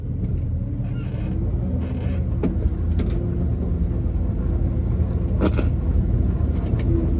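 A 4x4 truck creeps down a steep grade in low range gear, its engine a steady low rumble throughout, with a few brief knocks and clatters over it.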